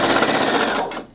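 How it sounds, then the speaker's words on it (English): A sewing machine hemming the bottom edge of sequined fabric, a loud, close, rapid rhythmic whirring stitch that runs steadily and then tapers off at the end. "I'll show you it on the sewing machine now"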